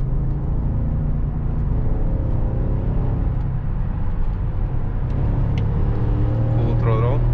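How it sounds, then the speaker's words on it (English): A V8 car engine pulls hard at full throttle, a loud, dense continuous roar with rising pitch as the car gains speed, heard from inside the vehicle. "Full throttle. You see the V8 is feeling its throat."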